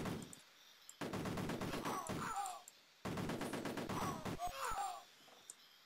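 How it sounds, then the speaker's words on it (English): Bursts of rapid gunfire from the Cannon Fodder video game, two long rattling volleys of repeated shots separated by a brief gap, with small squeals of enemy cries mixed in. "Here we have three faceless enemies who Jools and Jops are now going to slaughter with guns"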